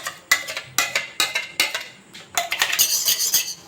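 Ripe mango pulp is spooned into a kadai on a gas stove, with a series of sharp metal clinks and scrapes of a spoon against the pan, close and fairly loud, ending in a busier stretch of clatter.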